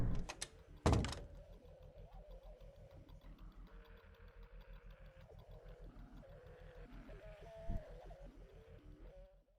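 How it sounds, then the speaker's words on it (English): In the Doom mod The Pink Valley, a game door opens with a short loud mechanical burst near the start, then a low droning, engine-like rumble runs underneath, with no voices. "to open the door."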